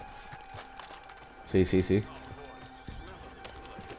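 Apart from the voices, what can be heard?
horse hooves clip-clopping in the video game Red Dead Online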